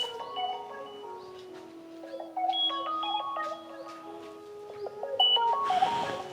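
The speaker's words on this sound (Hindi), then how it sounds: "दीपक का फोन" An electronic phone ringtone plays a melody of stepped, beeping tones, steady and fairly clear, with no one talking.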